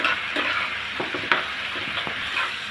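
Ground spices are stirred into boiled bottle gourd in a pan, giving soft, close scraping and stirring strokes over a low steady sizzle, with no voices.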